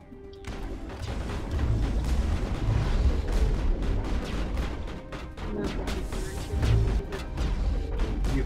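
Sustained, loud assault rifle fire in the Mass Effect video game, a dense rumbling barrage with booming impacts that continues almost without pause.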